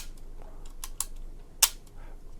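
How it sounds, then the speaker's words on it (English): Lubitel 166B medium-format camera releasing its shutter: two quiet, sharp mechanical clicks about half a second apart, close up, with light handling noise around them. "that has flipped up, and that has released the shutter"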